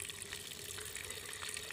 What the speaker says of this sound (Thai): ฟังเสียงคือน้ำไหลเข้าไปแล้วมันไม่ซึมออกไงฮะมันอยู่ลงไปที่ใต้รากเลยครับ